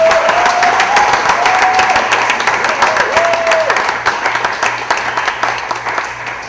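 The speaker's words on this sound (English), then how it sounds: "Round of applause, please" Applause and clapping from a crowd at a book release event, loud and sustained, fading slightly toward the end, with tonal sounds and some voices mixed in.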